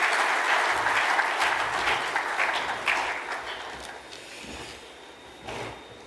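Audience applause at an ECOWAS investment forum after a minister's speech, a steady wash of clapping from a large hall that slowly tapers off.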